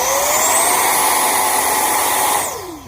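XFLY SU-27 RC jet's electric ducted-fan motor held at full throttle, a loud, steady high-pitched whine that climbs briefly, holds, then drops away as the motor spins down at the end.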